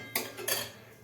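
A lid goes onto a pot of amla and sugar, giving two quick metallic clinks close by over a faint background hum.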